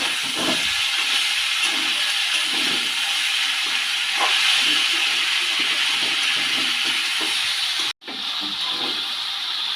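Cauliflower, potato and pea vegetables with chopped raw tomato fry in a pan, giving a loud, steady sizzling hiss with faint stirring knocks and a brief break near the end.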